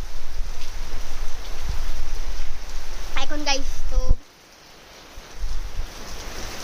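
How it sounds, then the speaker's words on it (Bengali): Heavy rain falls outdoors as a loud, continuous wash of noise while a person speaks briefly over it, then the sound cuts away abruptly into near quiet before faint noise returns. "খুবই বৃষ্টি নামছে"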